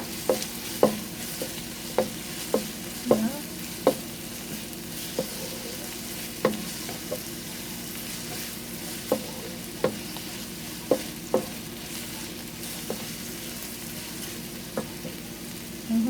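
Onion, garlic and carrots fry in a pan with a steady close sizzle, while a utensil stirs and taps against the pan at regular intervals.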